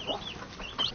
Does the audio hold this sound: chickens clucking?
yes